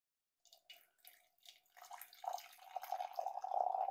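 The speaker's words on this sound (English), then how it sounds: "It always seems to taste better if I pour it a little high." Tea poured from a height into a cup, starting with a few separate drips and splashes, then building into a steady, rising trickle of liquid that grows louder as the cup fills, close and without talk.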